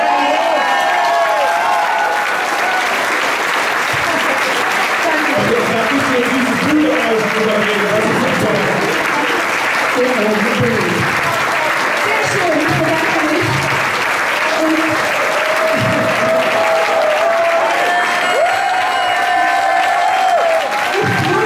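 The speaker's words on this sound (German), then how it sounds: "Die Leute haben sich erhoben, die haben nur vergessen, lange genug zu klatschen." An audience applauds loudly and steadily at an award ceremony honoring a singer, with dense continuous clapping and some cheers, and voices speak over the applause.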